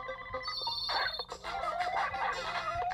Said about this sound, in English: It won't stop calling.